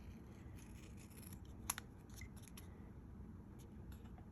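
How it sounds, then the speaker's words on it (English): Scissors trim the corners of cardstock during die-cut card making, producing a single faint, crisp snip with a few tiny clicks against a quiet room hiss. "So I'm just going to trim this a little on the corners."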